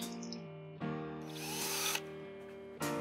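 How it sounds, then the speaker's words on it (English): An electric mini drill whines as it bores into a Matchbox 62C 1967 Mercury Cougar die-cast car, starting and stopping in short close bursts. "Let the drill do the cutting."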